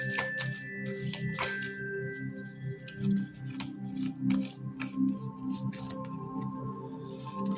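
Soft papery riffling and tapping of tarot cards being shuffled close by, repeated in quick bursts with light handling noise between.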